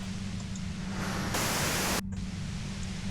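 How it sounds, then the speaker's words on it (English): Steady white-noise static hisses throughout a scene in the video game Disco Elysium, swelling brighter and louder for a moment in the middle before dropping back to a constant rushing level. "you can do it through the white noise."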